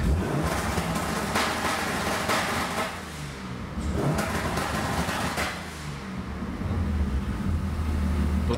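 A car engine fitted with MegaSquirt launch control is held at full throttle with the clutch pressed, giving a loud sustained roar that dips briefly twice before surging back.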